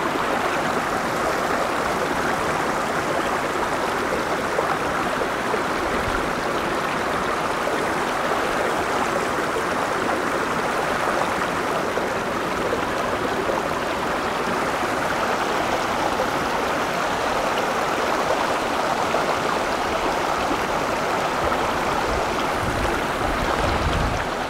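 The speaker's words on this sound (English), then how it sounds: "that soothing sound of water is gonna just send me off to sleep tonight." A stream in the Cheviot Valleys flows steadily and close by, a constant broadband rush of water that holds even for the whole stretch with no voices.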